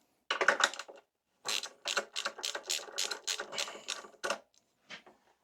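A ratchet with a 10mm deep socket and small extension loosening a bolt on a Honda CG125 scrambler motorcycle: close, loud bursts of rapid clicking, one short run, a pause, then a longer series of ratchet strokes.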